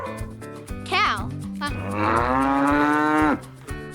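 A cow lets out one long, loud moo after a short rising lowing call, heard close up over a light musical backing.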